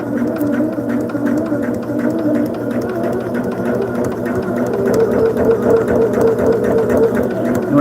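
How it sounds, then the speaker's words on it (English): A sewing machine stitches along a marked line on a quilt block, running as a steady continuous whir with an even mechanical rhythm throughout, fairly close and moderately loud, with no talking. "And we're going to just stitch on the line."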